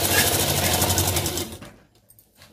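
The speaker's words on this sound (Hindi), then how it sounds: "सिलाई हम बड़े पैर की कर लेंगे, कच्ची सिलाई, मशीन की सिलाई भी बढ़ा लेंगे" A sewing machine runs fast and steady while stitching the lining of a 38-inch blouse, then stops abruptly and leaves near silence.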